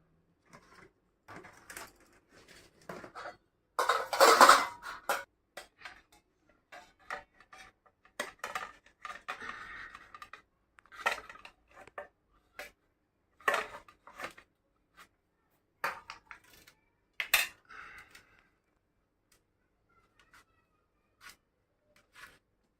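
Intermittent clinks and taps of dishes and cutlery as rice is served with fried kulekhara greens and potato-eggplant curry in a home kitchen, sharp clusters scattered between quiet pauses, with one louder clatter early on.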